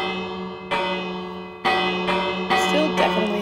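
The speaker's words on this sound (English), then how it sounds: "Over here, we've just got bells. They're pretty fun, but you do need to go ahead and ring them on the side." Bells rung in the Minecraft video game, struck three times in a row with bright metallic peals that ring out and overlap, loud and close with long sustained tones.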